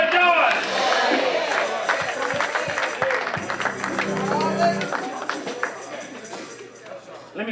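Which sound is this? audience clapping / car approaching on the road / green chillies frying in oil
audience clapping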